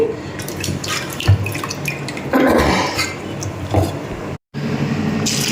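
Water poured from a glass into a pressure cooker while cooking soaked green gram, a continuous splashing pour with clinks of metal, fairly close and loud.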